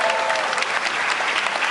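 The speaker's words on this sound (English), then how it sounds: "Please give her a round of applause for helping us out." Audience applause for a volunteer during a stage stunt show, a dense, steady wash of many hands clapping throughout, loud and continuous with no pauses.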